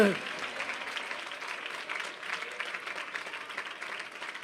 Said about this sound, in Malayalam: കൈയടിക്കുന്നെങ്കിൽ നേരെ കരങ്ങളടിച്ച് ദൈവത്തെ സ്തുതിക്ക്